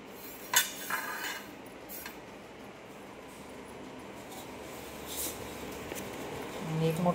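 New iron pans and a large kadhai are handled at home, with scattered metallic clinks and clanks, a few sharper knocks near the start and end, while a person talks throughout.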